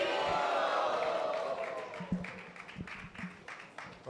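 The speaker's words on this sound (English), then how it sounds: "applause to Ekanath Prabhu" Applause for Ekanath Prabhu at a live kirtan gathering in Atlanta, heard as a dense crowd clapping that fades after a couple of seconds into scattered claps and taps from a hall audience.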